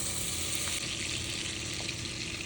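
Four sticks of butter melting in a pan on a stovetop, giving a steady, continuous sizzle and crackle with faint kitchen noise throughout and no talking.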